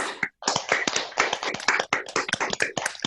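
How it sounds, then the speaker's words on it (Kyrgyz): People at an online training session clap for a speaker over their microphones, with close, crisp hand claps in an uneven rhythm from a small group, sounding slightly clipped and tappy. "баарыбыз микрофондорубузду жандырып, кол чаап койсок, спикерибизге"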